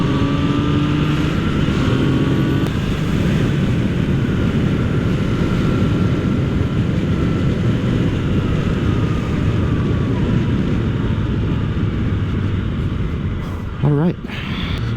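A Yamaha FZ-09 motorcycle runs at open throttle, a loud, steady engine drone with heavy wind rush throughout, the engine note easing near the end.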